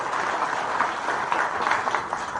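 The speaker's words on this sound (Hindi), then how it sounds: "एक बार अपने लिए जोरदार तालियां लगा" A crowd claps together in a steady, dense wash of applause that keeps going throughout without pause.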